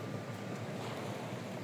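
Open sea heard from a boat off Equatorial Guinea in West Africa, a quiet steady wash of water and wind rumble with no distinct wave breaks.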